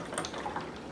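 Pine Sol cleaner poured into a partly filled container makes a soft, brief liquid trickle, faint and close.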